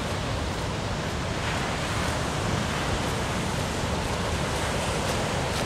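Ocean waves break continuously on a South African beach, a dense, steady roar of surf filling the whole stretch with no distinct pauses, loud and close.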